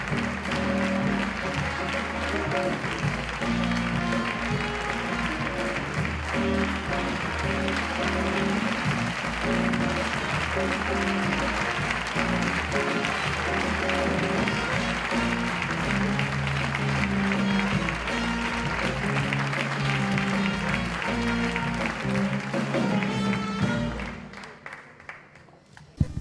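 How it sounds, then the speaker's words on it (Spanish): Long, loud applause from the audience at the 2015 Palencia sports awards gala, steady and dense for over twenty seconds with background music, then fading abruptly at the end. "¡Aplausos!"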